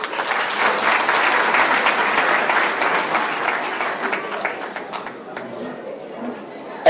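An audience at a speech event applauds the mayor of Nancy, dense close clapping that swells then gradually tapers, with some crowd chatter mixed in.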